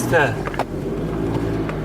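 A really old car in poor shape, loaded with three people and a pile of equipment, brakes with a steady low rumble and a brief squeal at the start, while someone talks over it.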